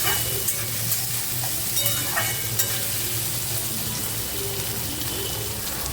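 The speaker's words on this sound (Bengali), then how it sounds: "তো চলো পেঁয়াজটাকে একটু ভেজে নিই।" Chopped onions fry in hot oil in a pan, a steady soft sizzle with light stirring scrapes and clinks, heard alone at moderate level without speech.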